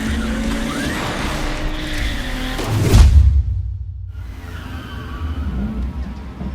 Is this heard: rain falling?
no